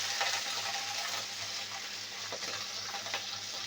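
Flat beans and potatoes with green chilies fry in a pan for a mustard-paste chorchori, giving a soft continuous sizzle with light scraping as they are stirred.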